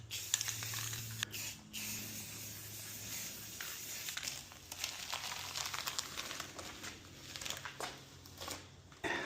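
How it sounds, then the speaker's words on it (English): A steady hiss of spray paint covering a wooden back deck runs throughout, continuous and moderately close, with small bursts and pauses and no talking. "we'll just paint her up real quick, give her a quick coat"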